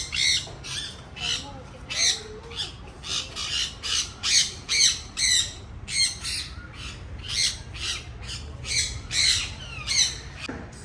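At Trivandrum zoo, a scarlet macaw gives a steady run of harsh, loud squawks, repeated about once a second for roughly eleven seconds, over a low background hum.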